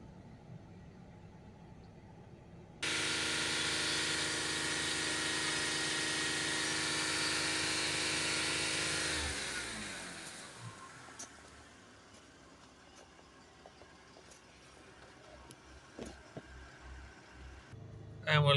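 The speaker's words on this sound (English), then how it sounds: "Obviously, we've been accelerating the car for a fair few minutes." A Jaguar F-Pace 3.0 diesel with a full exhaust particulate filter is held at steady high revs, a loud, sustained engine roar that suddenly drops away, leaving a quieter idle with small clicks and knocks.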